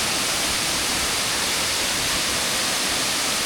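Soco Falls pours as a steady, dense roar of rushing water, constant and broadband with no breaks, filling the whole stretch without voices.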